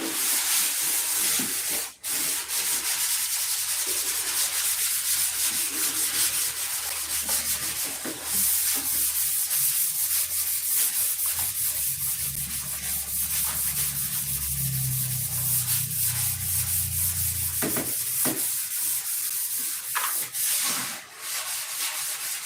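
Hand sanding paint on a P-47 aircraft model with 1200 grit sandpaper, close and continuous rubbing strokes with a soft hissing texture, a few brief pauses, and no talking.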